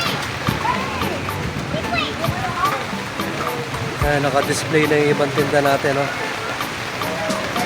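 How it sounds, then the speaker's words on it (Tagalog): Rain pours steadily over an outdoor street market in Balibago, Angeles, a continuous splashing hiss with people talking over it throughout. "Ulan na naman sa Balibago."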